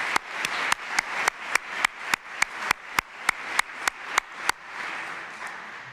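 A single person claps slowly and sharply in an even rhythm at an alumni awards banquet, about sixteen crisp claps close by, then stops, leaving quiet room murmur.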